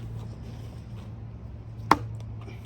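A single sharp thunk of a Work Tuff Silvanus knife blade striking wood stands out once against a low steady hum, loud and close.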